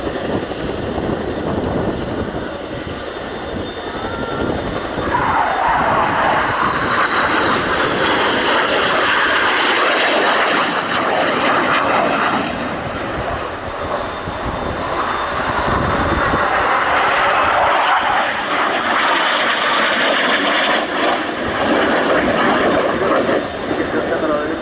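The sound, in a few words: display aircraft flying fast and low towards each other at an airshow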